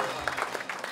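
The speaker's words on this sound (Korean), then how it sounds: "큰 박수 부탁드리고요" Brief applause from the audience at an Incheon Yeongnam hometown association year-end party as a guest is introduced, faint and mixed with a voice.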